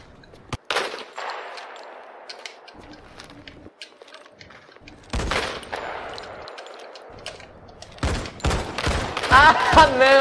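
Gunfire in the mobile shooter Modern Combat 5: sharp isolated shots and short bursts spaced across the clip, growing denser near the end, with quieter game ambience between them.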